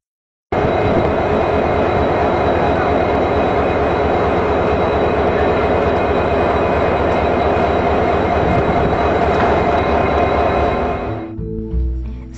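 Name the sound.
train engine being coupled to a passenger train at Madgaon station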